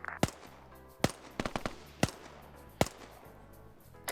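Sharp, scattered gunshots during an Arma military op, five or six distinct cracks spaced irregularly with a brief cluster in the middle, fairly close and with no voices over them.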